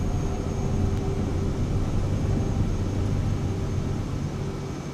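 Cirrus Vision Jet in Microsoft Flight Simulator 2024 climbing away after takeoff, a steady, loud jet engine roar with a broad rumbling hum and a faint high whine, constant throughout with no talking.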